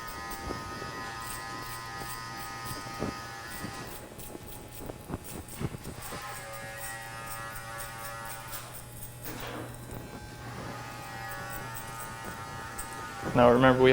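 Electric hair clippers trimming a beard and hair with a 2 guard fitted, a steady thin buzz running close under an ongoing voice, with brief pauses and light handling noises.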